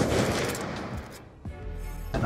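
Gunfire in Black Ops 2 trickshotting on the Studio map, played on Plutonium: a loud burst of shots at the start that fades, then a couple of sharp reports follow after a brief lull.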